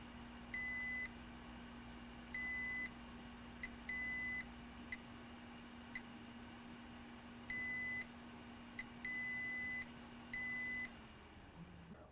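A multimeter's continuity tester beeps again and again on a shorted diode in a Galaxy S9 Plus phone that has no power: about eight steady-pitched beeps of varying length, irregularly spaced, over a faint low hum.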